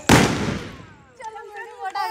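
A single loud, close Diwali firecracker bursts with a sharp bang and a decaying boom, followed by people talking.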